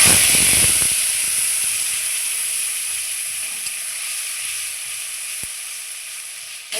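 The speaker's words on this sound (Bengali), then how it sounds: "বন্ধুরা আমার তেল গরম হয়ে গেছে একটা তেজপাতা দিয়ে দিলাম সামান্য পরিমাণে একটু জিরে দিলাম ফোড়নে দিয়ে দিলাম এখন বেটে রাখা মশলাগুলো দিয়ে দেবো" Ground spice paste dropped into hot oil tempered with bay leaf and cumin, bursting into a loud, close steamy sizzle that starts with crackling spits and settles into a steady hiss.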